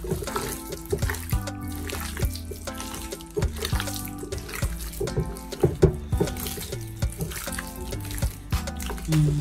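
Raw beef steak is rinsed under a running kitchen tap, a steady splash of water with irregular knocks and handling sounds as the meat is turned over in the sink.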